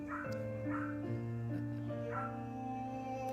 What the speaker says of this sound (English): Even that little barking dog.